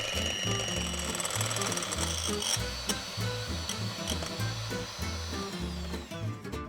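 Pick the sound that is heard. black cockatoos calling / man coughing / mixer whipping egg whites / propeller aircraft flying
mixer whipping egg whites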